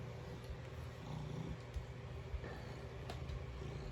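A large 30-pound cat purrs with a low, steady rumble close by in a soft, even rhythm, joined by faint occasional clicks.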